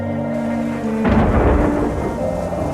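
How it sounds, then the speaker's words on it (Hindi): A loud rumble of thunder breaks over steady, heavy winter rain, rolling on for a second or two before settling back into the downpour. "तभी बहुत जोर से बिजली कड़कती है"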